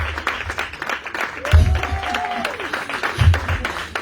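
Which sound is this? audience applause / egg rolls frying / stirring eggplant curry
audience applause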